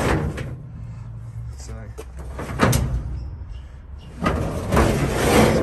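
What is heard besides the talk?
toolbox drawer sliding out on Nissan Navara ute tray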